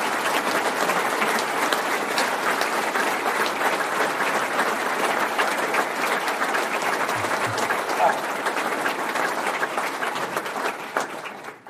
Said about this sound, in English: a round of applause for those three guys would be good